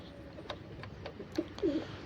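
Pigeons cooing softly in a loft: faint, low murmuring coos with a few light taps and clicks. The sound is quiet and close, with no voices.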